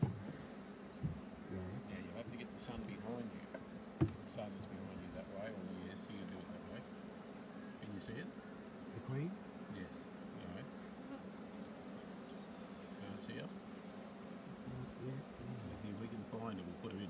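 Bees from a horizontal hive in Australia hum in a steady, low, continuous buzz nearby, with occasional knocks and people talking over the drone.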